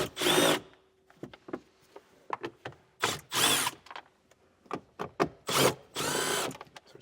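A power tool fitted with an 8mm socket whirs in short repeated bursts while backing out floor panel screws on a 2020 Hyundai, each spin brief and close, separated by quiet pauses and small clicks.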